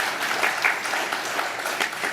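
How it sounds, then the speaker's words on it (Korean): Church congregation in a Korean Wednesday worship service applauding, a steady, dense wash of many hands clapping together in the sanctuary, fairly loud and continuous throughout. "네, 박수 보내주시기 바랍니다."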